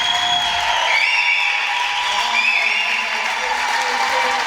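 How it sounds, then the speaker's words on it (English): Sustained applause from a football crowd at a women's match as a substituted player leaves the pitch, a steady dense clapping with faint whistles carrying over it. "There's a massive crowd reaction for Anna Osborne coming off."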